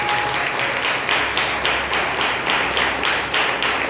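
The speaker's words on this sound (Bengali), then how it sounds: "সবাই ঈশ্বরের নামে একবার জোরে হাততালি বাজাবো" A church congregation at a Sunday service claps loudly in unison, a dense burst of many hands with a rhythmic pulsing beat, no talking over it.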